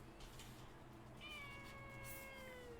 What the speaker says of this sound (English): heard a cat!